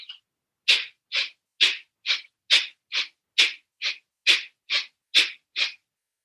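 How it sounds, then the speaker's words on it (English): Rapid forceful breaths through the nose, about a dozen sharp puffs in a steady quick rhythm, close and loud with no talking. "So Bhastrika breath sounds like this."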